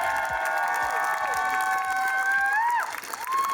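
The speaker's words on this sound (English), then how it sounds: "Give them a round of applause, everyone." An audience claps and cheers steadily for the winners of a cosplay competition, applause rolling continuously at moderate distance with a few excited shouts rising near the end.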